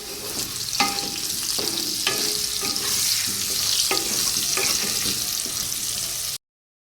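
Potatoes fry in hot oil seasoned with salt and turmeric, a continuous bright sizzle close by with several scraping stirs against the pan spaced through it, before the sound cuts off abruptly.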